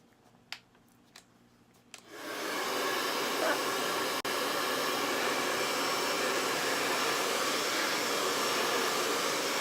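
A hot air dryer blows onto a chalk-painted decor sign, starting after a couple of soft taps and clicks, then running as a loud, steady whooshing roar that continues to the end.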